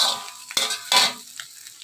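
Egg fried rice ingredients stir-fried in a pan, with a few scraping, clattering stirs of a utensil over a soft sizzle, close and fairly quiet.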